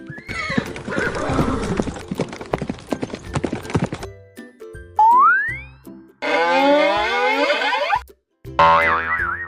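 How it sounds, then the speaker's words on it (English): Cartoonish horse sounds: a rapid run of hollow clip-clop hoof beats, then a springy boing, followed by a loud, wavering neigh and a second whinny, each separated by brief gaps. "Horse."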